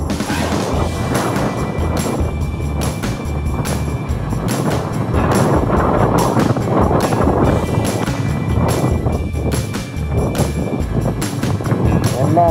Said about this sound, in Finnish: Tänään Pertsilassa tuulee!